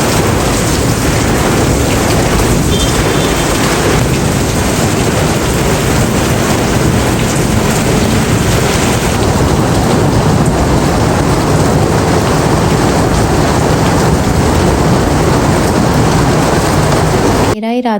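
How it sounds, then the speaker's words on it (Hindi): Heavy stormy rain driven by strong wind pours down outside and strikes the houses across the way, a loud, steady, dense roar that lasts throughout with no let-up. "बाहर तो इतनी तेज़ तूफ़ानी बारिश थी कि टकरा रही थी सामने वाले घरों में भी"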